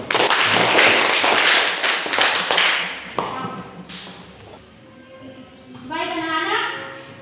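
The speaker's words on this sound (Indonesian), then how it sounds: "Mari kita berikan tepuk tangan." Students in a classroom give group A a burst of dense, close applause for about three seconds; it fades out and a teacher's voice follows.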